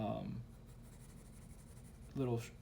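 A pencil making short strokes to draw bird feathers on paper, faint scratchy scribbling heard in two brief bursts at the start and end, quiet and close with a soft background between.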